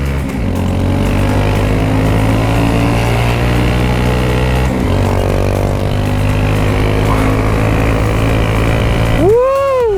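A small Motrac M6 motorcycle revs and accelerates along narrow streets, its engine a loud, steady drone with harmonic bands that step once as it shifts gear, then a rising whine near the end; no voices.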